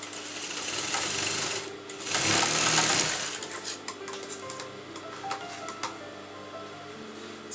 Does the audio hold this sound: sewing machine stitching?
yes